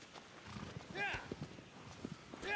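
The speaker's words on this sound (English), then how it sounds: "I want to speed up a horse." Horse hooves clip-clopping at a gallop in the Shadow of the Colossus video game, with a brief whinny, the steps rhythmic and close under game ambience.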